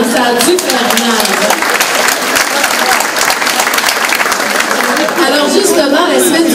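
A room of people at a volunteer tribute evening claps loudly and continuously for a volunteer, with voices and chatter mixed into the applause throughout.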